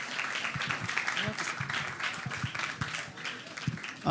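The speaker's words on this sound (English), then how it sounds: "Keep clapping, he's still coming." Clapping from an audience at a kids' hackathon finale and tech showcase, uneven and moderately loud with distinct individual claps, while voices talk and murmur over it.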